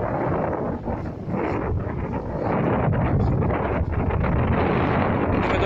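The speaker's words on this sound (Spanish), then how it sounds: "me agarra una ráfaga fuerte" A strong gust of wind buffets the microphone on a bridge, a loud continuous roar that swells slightly and holds steady for nearly six seconds.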